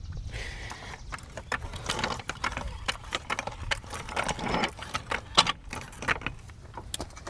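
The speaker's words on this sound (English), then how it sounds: "we're going to go ahead and jack up our vehicle on the jack point here" Car jack ratcheting up under the front jack point of a Hyundai Palisade during a brake job, heard as a series of close irregular metallic clicks and clanks with jangling, uneven in rhythm and moderately loud.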